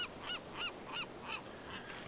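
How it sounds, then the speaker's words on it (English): A bird in The Sims 3 game honks in a steady run of about six nasal, goose-like calls, evenly spaced and moderately loud, fading slightly toward the end with no talking. "Shut up, bird!"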